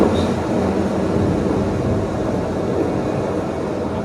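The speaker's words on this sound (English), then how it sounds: "That night, a storm rolls along the coast." A storm rolling along the coast plays as a museum exhibit effect, a low steady rumble of wind and thunder-like roar filling the room, continuous and fairly loud with no voices.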